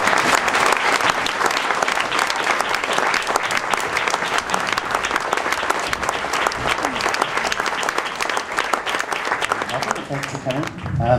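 Sustained audience applause greets panel speakers at a talk about a musician's studio, dense and loud throughout, fading near the end.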